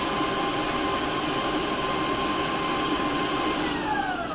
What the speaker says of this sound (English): I'm going to beat that in on medium so it becomes very smooth